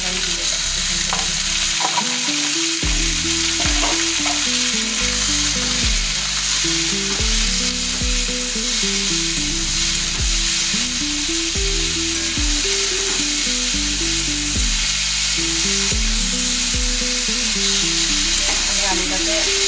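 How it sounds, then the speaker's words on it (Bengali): Potatoes with a pinch of turmeric frying in a pan for Bengali aloo posto, a continuous loud sizzle with repeated scraping strokes of a spoon stirring through them. "আলুটাকে নেড়ে নিলাম"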